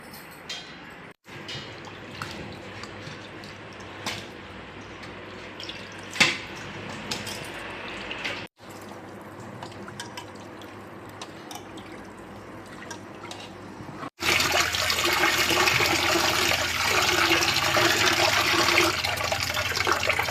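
Raw chicken is washed in water, with splashing, dripping and sloshing in short separate bursts, then a louder, steady rush of running water in the last few seconds, and no talking.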